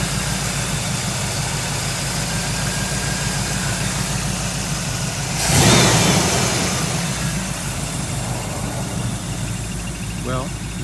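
A 1974 Chevy Nova engine idles steadily with a low, even rumble, close and continuous, with a brief louder swell midway before settling back to the same smooth idle.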